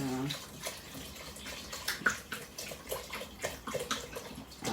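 Filtered water runs into a cooking pot in a home kitchen, a faint, steady splashing pour with soft drips, while a person talks over it.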